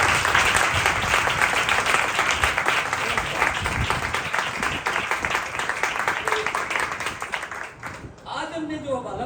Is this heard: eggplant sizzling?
no